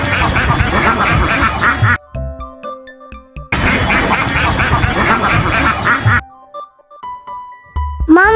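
Ducks quack loudly in two dense bursts, with quieter gaps of sparse sounds between and a short squeak near the end.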